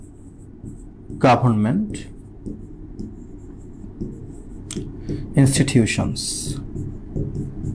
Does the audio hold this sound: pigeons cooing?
no